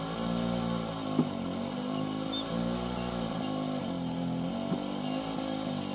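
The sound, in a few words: motorized winch pulling a plough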